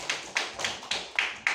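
Five or six evenly spaced claps from children in a classroom, sharp and fairly faint, in a steady rhythm with brief gaps between them.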